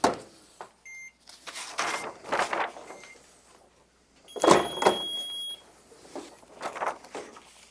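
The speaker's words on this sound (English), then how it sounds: "when we hear that press beeping at the end of the application" A heat press beeps at the end of a plastisol screen print transfer application, short electronic tones sounding among nearby workshop clatter and handling noises, close and fairly clear.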